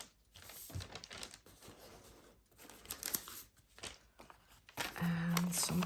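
Music paper for a junk journal handled close up, with crisp crinkling, rustling and tearing in short irregular bursts, followed by a brief scraping sound at the end.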